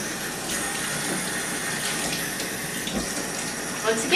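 Tap water runs steadily while a bathed cat is rinsed off, a continuous close hiss and splash that holds evenly throughout with a brief burst of louder splashing at the end.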